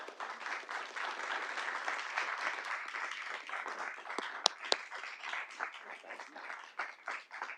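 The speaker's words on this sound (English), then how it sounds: "Let's give them a round of applause." Sustained applause from a seated audience at a Little Rock city Board of Directors meeting, steady dense clapping across the whole stretch with a couple of sharp louder claps standing out near the end.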